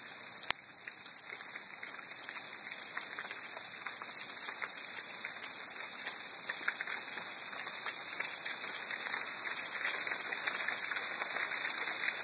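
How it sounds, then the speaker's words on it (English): Steady rain falling after sleet and snow, a soft even patter that grows slightly heavier over time, with no one talking. "There's still some rain coming down,"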